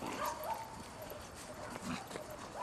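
Ada, a German Shepherd showline female, barks and whimpers in short bursts against a noisy background, with faint human voices mixed in.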